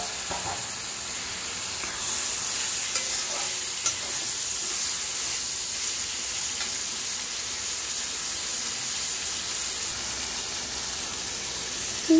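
Potatoes and capsicum stir-fried with softened tomatoes in a pan for a peas and potato varuval, a continuous loud sizzle with occasional faint stirring, close up and without speech.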